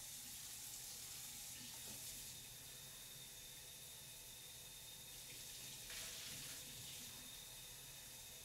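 Something rinsed under a running kitchen tap, a steady hiss of flowing water that continues throughout, close and fairly quiet, with no talk.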